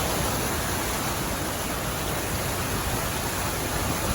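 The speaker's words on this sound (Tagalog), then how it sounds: "heavy rains tonight in Metro Manila" Heavy rain pours down during a flash flood at night in Metro Manila, a dense, steady hiss of downpour filling the scene without a break, with no voices.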